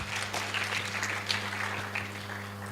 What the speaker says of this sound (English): So let's clap for her once again.